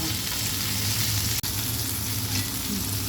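Rani fish fillets fry steadily in a pan over a medium flame, a dense, even sizzle with soft crackle that holds at constant loudness throughout, broken only by one brief dropout midway, no voices.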